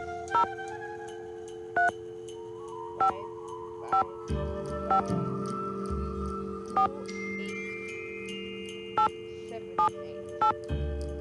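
Telephone keypad tones from the video game Nancy Drew: The White Wolf of Icicle Creek sound as about a dozen short, separate beeps in an uneven sequence, with soft background music and a voice briefly speaking.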